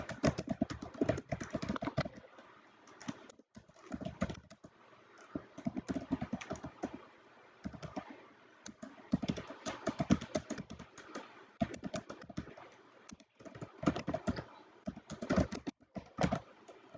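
Bursts of keyboard typing, quick clattering keystrokes in irregular runs with short pauses between them, close and fairly clear.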